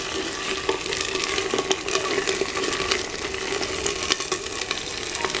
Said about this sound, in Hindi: इसके बाद थोड़ा सा इसमें अब पानी डालेंगे।